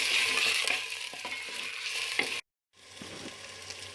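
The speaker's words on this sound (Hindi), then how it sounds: "अब मैं मटन को 4 से 5 मिनट मीडियम आंच पर भूनूंगी।" Mutton sizzles loudly in a pan over medium heat with stirring scrapes, a brief silent cut, then frying resumes more softly.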